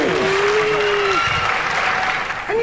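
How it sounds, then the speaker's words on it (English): A television studio audience at a celebrity robot-combat show bursts into loud, sustained applause and cheering, steady for nearly three seconds with a voice faintly heard beneath. "Let's hear it for Shane Lynch and Chrome-A-Lot!"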